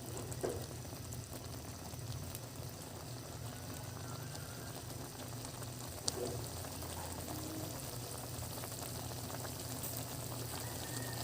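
A sarsiado fish dish of bilong-bilong simmers in a pot with a soft, steady bubbling. It is faint and continuous, with one small clink partway through.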